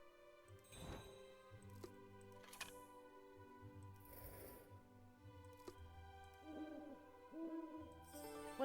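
Owl hoot sound effect in a video game as an owl coin is found, a soft, quiet call alone over low steady game background music and mechanical ambience.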